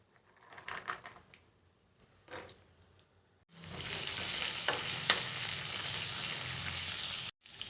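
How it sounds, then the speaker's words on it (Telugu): Sprouted chickpea murukulu snacks frying in hot oil in a pan, a few clatters first, then a loud steady sizzle that runs for several seconds before cutting off abruptly. "స్టవ్ మీద పాన్ తీసుకుని ఆయిల్ కొంచెం వేడైన తర్వాత మురుకులు వచ్చేసరికి దీంట్లో చేసుకోవాలి"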